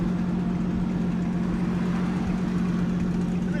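A car with a modified catback exhaust idles steadily nearby, a low, even drone with a constant hum running throughout and no revving.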